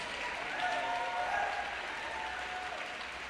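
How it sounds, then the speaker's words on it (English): Arena crowd applauds senior players at a women's college basketball game, a steady broadband roar of clapping filling the hall for several seconds, with faint voices mixed in. "Let's give one more round of applause for our seniors."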